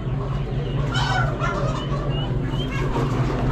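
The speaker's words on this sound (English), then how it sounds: "Some roosters." Roosters and other fowl crow, cluck and gobble in a crowded pen at an Amish animal auction, with loud overlapping calls above a steady low hum.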